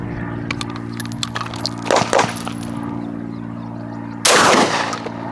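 A Benelli M3 dual-mode shotgun cycling a shell from the magazine tube into the chamber, with a couple of sharp metallic clacks and a louder final snap of the action closing, no talk.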